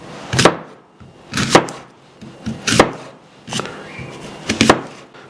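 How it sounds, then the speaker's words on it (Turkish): A knife thinly slicing apples on a cutting board in five or six firm, separate strokes, each a sharp woody knock with a brief slicing scrape. "Elmaları da ince elma dilimi yapıp ayranımıza ekleyeceğiz."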